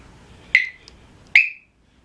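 An electrical wire tester clipped to motorcycle wiring gives two short, sharp electronic beeps about a second apart, loud and close, in an otherwise quiet space.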